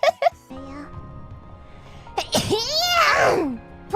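A single wet sneeze with a sharp intake and a burst, close and loud, after brief vocal sounds at the start.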